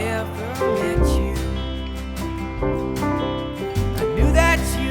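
Logic Pro 11 Keyboard Session Player piano follows the bass line in a pop arrangement, with sustained chords and melodic runs over a steady low bass, full and clear, with no talking.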